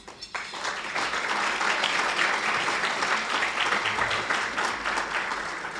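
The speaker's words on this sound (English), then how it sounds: "Please give local elected officials a round of applause as well" An audience gives local elected officials a round of applause at a community program, with a loud, sustained wash of clapping that swells quickly and holds steady.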